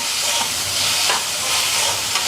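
Tomatoes and onions roasting in hot oil in a pan, a continuous close sizzle and hiss with faint stirring scrapes, no voices.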